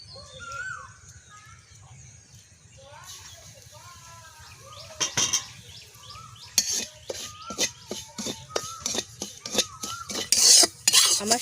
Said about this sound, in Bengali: এখন এই আতপ চালের সুজিগুলো আমি ভেজে নেব।